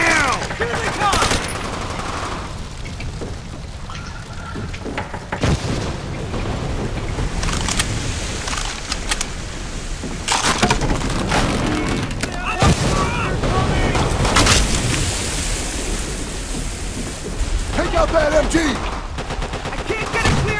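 Dense machine gun fire and scattered gunshots fill a World War II battle in Call of Duty: World at War, with explosions and loud bursts running throughout while voices shout over the combat.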